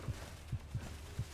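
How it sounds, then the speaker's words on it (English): Heartbeat sound effect in a Bigfoot hunting video game, low muffled thumps pulsing in pairs at a quick, uneasy pace over a faint background hum. "My heartbeat's going crazy."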